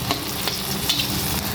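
Tebu telur vegetables sizzle and crackle in a pan as they are stirred and fried after a splash of water, a close, steady frying hiss with faint scrapes and no talk.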